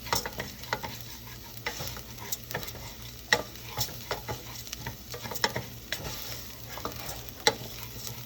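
Rice toasting in a pan for risotto gives a soft, steady sizzle with scattered crackles and light scraping ticks, close and fairly quiet, with no voices.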